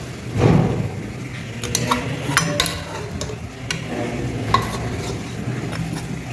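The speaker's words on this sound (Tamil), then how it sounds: "ஸோ நம்ம மட்டன் போட்டுறேன்" Mutton for biryani stirred and frying in a pan, a steady soft sizzle under repeated scraping and clinks of a spoon against the metal, close and fairly loud with no talking.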